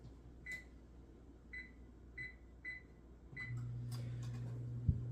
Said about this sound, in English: I'm going to preheat my oven to 375